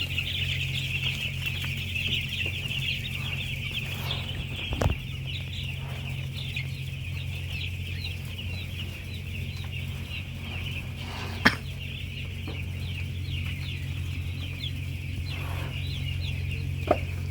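A flock of eight-day-old chickens in a rack-style coop, clucking and peeping steadily and continuously at moderate distance, with a low hum underneath and a few brief knocks.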